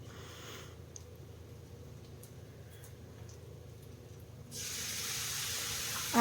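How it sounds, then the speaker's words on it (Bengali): A little water goes into a pan of fried potato and onion for a methi shak dish. There is a low steady hiss, then a louder, brighter rush of spray and sizzle near the end, close and alone with no talking. "এখন অল্প করে এখানে একটু জল দেব"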